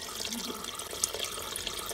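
Cold water runs steadily from a kitchen tap over freshly blanched asparagus, a close, continuous splashing rush with no talking.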